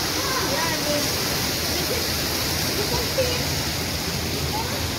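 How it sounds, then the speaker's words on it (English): Loud, steady rushing water fills the air at The Heritage in Hong Kong, a broad continuous wash like a fountain or cascade, with voices talking faintly beneath it. "I feel the water is so noisy now."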